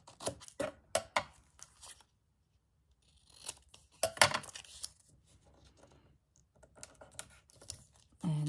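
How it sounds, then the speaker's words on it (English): Scissors snipping through art journal paper to trim it to size, a few short close cuts and rustles with quiet gaps between, no talking. "Just need to trim that down so it fits."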